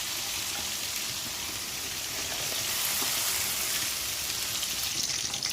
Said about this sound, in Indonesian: Ini minyaknya sudah panas, langsung kita masukin yang tadi sudah kita blender.